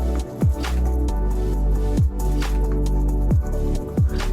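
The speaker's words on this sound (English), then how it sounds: "So now I'm gonna go ahead with the hard side and we're just gonna scrub." The hard side of a facial cleansing brush scrubs wet skin in close, steady squishy strokes, with soft wet squelches repeating about every second and a half over a constant low hum.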